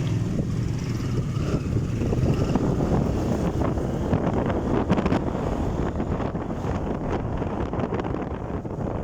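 Strong wind buffets the microphone in a constant loud roar, gusting and rumbling with no voices.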